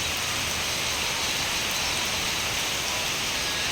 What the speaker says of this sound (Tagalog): Kusog kayong ulan, tugnaw kaayo.